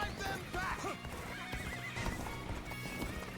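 A horse in the video game Dynasty Warriors Origins gives a shrill, wavering neigh amid brisk clip-clopping hooves, with busy battle noise around it, close and lively throughout.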